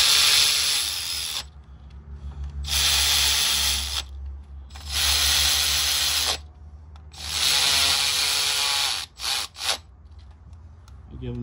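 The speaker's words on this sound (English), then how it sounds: "Give them just a quick down with the ratchet." A ratchet snugs the 10 mm spark plug coil bolts on a 2003–2016 Honda CR-V, heard as several loud rasping bursts of a few seconds each, separated by short pauses.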